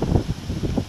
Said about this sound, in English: It's so windy right now. It's so annoying.